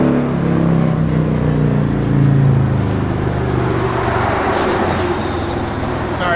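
Road traffic rolls past close by outdoors, a steady broadband roar of cars and heavier vehicles that swells and fades slightly, with no voices over it.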